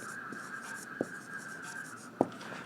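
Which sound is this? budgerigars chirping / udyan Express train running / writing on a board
writing on a board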